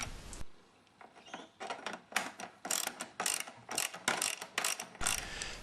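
Ratchet tightening bolts during a tow bar install on a Can-Am Spyder RS, quick close clicking strokes in short repeated bursts, fairly loud and with no talk.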